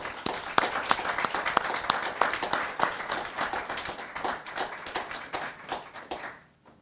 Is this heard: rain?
no